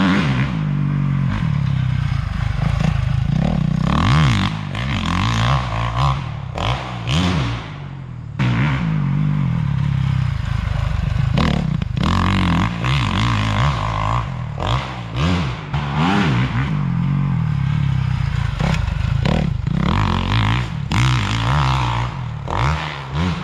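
A motocross dirt bike roars continuously as it accelerates hard around a bumpy, mulchy dirt track. The engine pitch rises and falls through repeated throttle bursts, with clattering over the bumps and the bike close and loud throughout.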